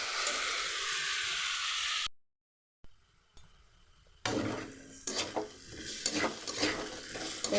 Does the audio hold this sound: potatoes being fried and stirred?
yes